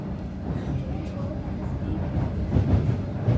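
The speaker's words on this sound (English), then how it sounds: "Today we caught the train from our train station in Craigieburn." Steady low rumble of a moving Melbourne suburban train heard from inside the carriage, with faint rattling and a voice murmuring now and then over the noise.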